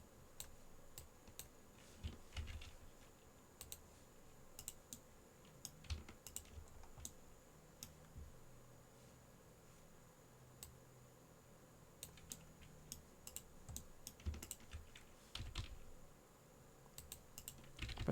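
Fast, quiet clicking of a computer keyboard during 3D modelling work in Blender, with irregular bursts of keystrokes and short pauses, heard close up over a low background hum.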